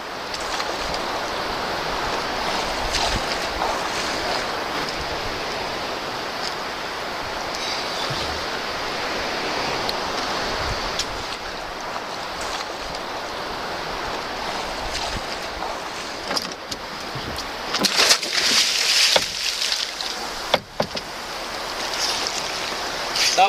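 Steady wash of water and wind around a small rowing boat on the open Atlantic, continuous and fairly close, with a few louder splashes near the end.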